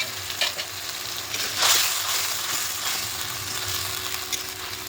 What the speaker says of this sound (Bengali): ক্যাপসিকাম পেঁয়াজ ভাজছে তেল দিয়ে